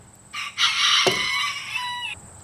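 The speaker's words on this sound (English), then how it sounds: "A rooster?" A rooster crows once, loud and close, a long drawn-out call that rises and then fades off.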